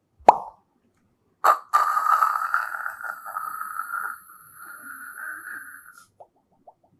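A mimicry artist uses his mouth to imitate a soda bottle being cracked open: a sharp pop, then a second pop followed by a long fizzing, hissing rush that fades over several seconds, with a few faint clicks at the end.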